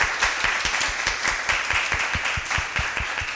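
Audience applauding at the end of a university seminar, steady scattered clapping throughout at moderate distance, no voices standing out.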